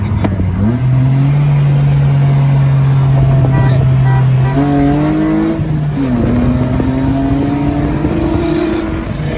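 A BMW E30 with an S52 engine pulls hard with a loud, close in-cabin engine drone that climbs, drops briefly at a gear change, then climbs again, with faint voices underneath.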